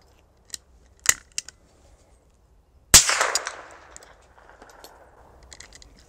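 A suppressed Chiappa Little Badger rifle fires a Thunderbolt round: a few light mechanical clicks, then one sharp muffled report with a short ringing tail, followed by faint handling noise.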